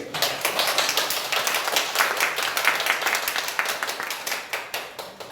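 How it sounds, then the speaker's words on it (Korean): Steady applause from a group, dense overlapping claps sustained throughout, with individual claps thinning out slightly toward the end. "감사의 박수를"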